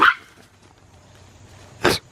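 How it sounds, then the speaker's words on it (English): A dog gives one sharp, close bark during a raccoon removal, after a short yelp at the start and a quiet stretch in between. "Hernando is not barking at the coon. He's actually barking at Adam."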